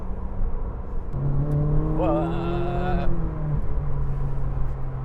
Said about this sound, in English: before the revs come up, it's actually quite a quiet car, isn't it?